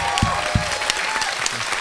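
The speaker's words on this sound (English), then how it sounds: "a round of applause for our very special guests tonight" Studio audience applause for a band's special guest appearance at a radio session, loud clapping throughout with a few sharp claps standing out and a voice speaking over it.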